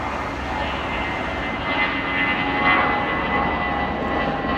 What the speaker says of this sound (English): Thought you might like to see the plane going over.